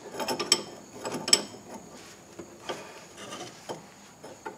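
A wrench works a loose bolt on the rear drum brakes of a 2000 Ford Focus, giving irregular close metallic clicks and ratcheting scrapes in short bursts with brief pauses.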